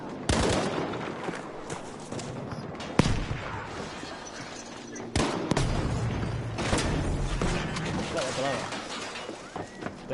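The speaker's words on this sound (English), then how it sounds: "Grenade for them!" A grenade blast and bursts of gunfire in Battlefield V, with sharp booms and crackling fusillades repeating through the stretch as someone talks over the action.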